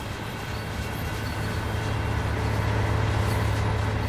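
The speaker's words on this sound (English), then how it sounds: "We can watch our train go through." A train passes a platform in Train Sim World on the Maintalbahn, a broad, steady rumble of wheels and engine that holds even and loud throughout, with no talking.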